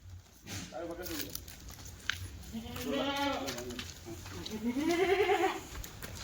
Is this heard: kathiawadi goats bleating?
yes